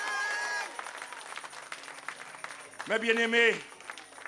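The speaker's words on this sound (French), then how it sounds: "on applaudit le Seigneur pour ça" A congregation at a church service applauds in praise, a moderate wash of clapping and crowd noise beneath a preacher's voice speaking and calling out over it.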